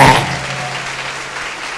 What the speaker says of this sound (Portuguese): Agora aplauda Jesus de Nazaré.